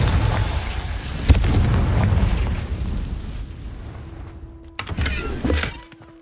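A Confringo blasting spell from Hogwarts Legacy goes off with a sharp crack, then a rumbling, fading blast; a second burst follows near the end amid low game ambience.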